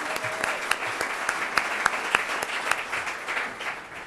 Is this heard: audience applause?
yes